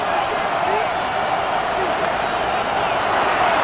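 Stadium crowd cheering in the Madden 26 video game during a Cowboys versus Eagles matchup, a loud, steady, dense roar that holds throughout, with commentary talk running beneath it.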